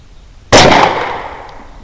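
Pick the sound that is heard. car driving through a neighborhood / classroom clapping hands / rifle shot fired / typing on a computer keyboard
rifle shot fired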